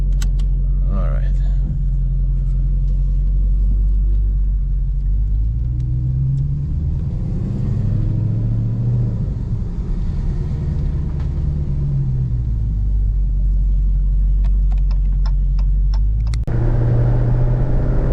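A Dodge Hellcat engine rumbling loudly and steadily from inside the car while driving, with revs swelling and easing in the middle, as people talk over it.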